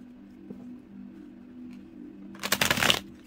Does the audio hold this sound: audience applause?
no